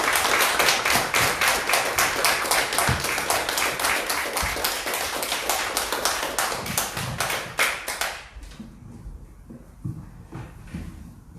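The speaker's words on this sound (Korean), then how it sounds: "박수로 맞이해 주시면 감사하겠습니다" Church congregation applauding to welcome a visiting missionary at a Korean Baptist service, with steady dense clapping for about eight seconds that then thins to a few scattered claps.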